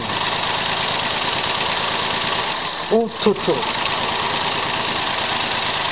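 Daihatsu Tanto engine idling steadily during a cylinder balance test, a continuous mid-pitched drone throughout with a brief exclamation from a man partway through.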